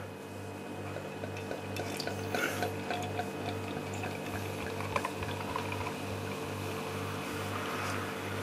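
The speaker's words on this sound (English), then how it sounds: "I'm going to fill our glasses up with this wonderful sounding porter" Porter beer from a 750 ml wine-sized bottle pours into glasses, a steady liquid pour with faint glugging over a constant low background hum, no talk.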